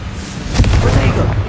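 A Confringo fire-blast spell explodes in Hogwarts Legacy, giving a loud, close burst with a rumbling tail over game combat noise.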